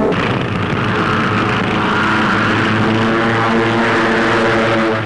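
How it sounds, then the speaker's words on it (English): Propeller-driven fighter pursuit planes from 1942 take off from aerodromes, their engines giving a loud sustained droning roar throughout, as heard in a wartime newsreel soundtrack. "United Nations pilots take to the sky in fast fighting pursuit ships"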